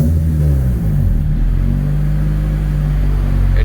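A 1990 Honda CRX engine idles with a steady low rumble, briefly swelling slightly early on before settling back into an even, close drone.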